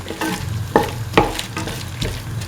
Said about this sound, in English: saute for 3 to 4 minutes